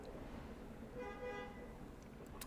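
Car horns honk outside on the street, a brief tonal blast with a few tooting notes over low traffic rumble, somewhat distant and fairly faint.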